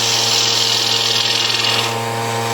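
A wooden bowl foot spins on a lathe while a tool cuts a recess into it, giving a loud, steady high hiss of cutting over a constant motor hum close by.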